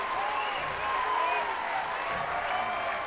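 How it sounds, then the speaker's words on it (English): Crowd noise at a college softball game between South Florida and Arkansas, a broad roar of cheering and clapping from the stands after a game-tying hit, held steady under faint tonal whistles. "This crowd is up and making some noise"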